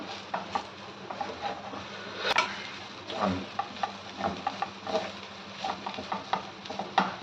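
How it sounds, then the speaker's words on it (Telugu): Chapathi fry is stirred and mixed in a pan, with a spatula scraping and clinking in irregular strokes over a soft continuous sizzle, close and fairly loud, without talk. "ఇప్పుడు లిడ్ తీసేసి మంచిగా మిక్స్ చేసుకోవాలండి."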